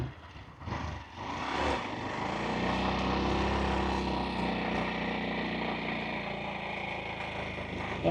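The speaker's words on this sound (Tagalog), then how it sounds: "First ride natin guys sa Korea na nagmumotor." A motorcycle borrowed for a first ride in Korea, its engine running steadily and fairly loud after a brief rev at the start, with a continuous droning hum throughout.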